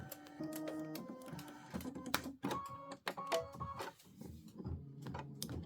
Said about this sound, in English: so we'll just go ahead and stitch this out